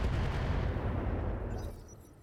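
Mech weapons firing in the BattleTech mod RogueTech: a short, loud burst of rapid booming shots and rumbling impacts that fades out over about two seconds.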